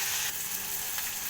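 Upma frying in a pan with peanuts, a steady close sizzle with faint scraping from stirring, filling the short moment without any voices.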